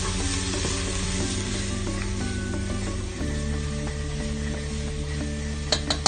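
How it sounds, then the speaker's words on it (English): Ginger and garlic cooking in a pot for a spicy Ethiopian green lentil stew, a dense steady sizzle with a faint hum underneath and a few sharp utensil clinks near the end, no speech. "Alright, so we're going to stir and cook for 5 minutes."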